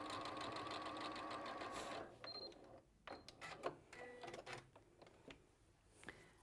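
A sewing machine runs in a steady, fast burst of stitching while a quilted item is sewn, then stops abruptly, leaving scattered clicks, handling noises and faint movement.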